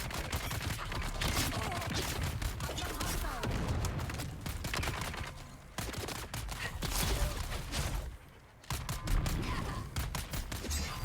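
In Dune Awakening, one machine gun and two rifles fire at a personal shield in the Hagga Basin, keeping up dense, continuous automatic fire with crackling impacts and only brief pauses.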